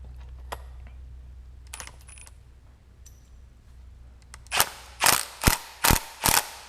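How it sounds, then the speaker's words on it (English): A bearing puller is turned to free a bearing during an LS swap on a Porsche 944, faint clicks and metal taps at first, then five loud, sharp ratcheting clacks in a row, close by with no talking. "So we're gonna give it a couple turns and see if the bearing comes loose. We don't want to break the puller."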